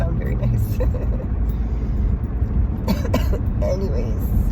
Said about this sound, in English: I'm going to go before I start coughing again